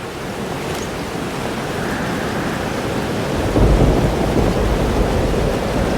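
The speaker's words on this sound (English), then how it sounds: "Weather's worse than I remember it. The storm followed me." Steady rain pours through a thunderstorm in the video game Life is Strange Double Exposure, with a constant wash of rainfall and a deep rumble of thunder swelling in partway through, no voices.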